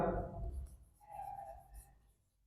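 Marker or chalk scratching across a classroom board for a short stroke, soft and close, with a fainter squeaky line in the middle and no talking.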